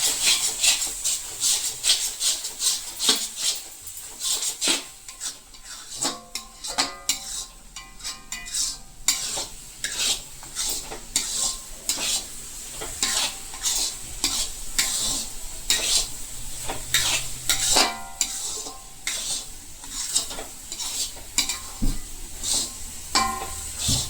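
Khadim pak mixture being stirred in a pan right after a spoonful of desi cow ghee goes in, with steady scraping strokes and a soft sizzle running throughout, close and moderately loud with no talking.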